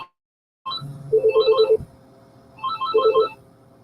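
An intercom handset plays a ringtone melody: two bursts of bright electronic beeping tones, the first longer after a short low buzz, the second repeating the pattern after a pause, clear and close with no talking.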